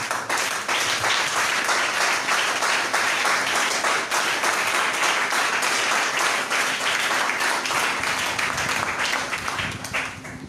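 A church congregation applauding, dense sustained clapping from many hands filling the room, loud and continuous throughout, with some voices mixed in.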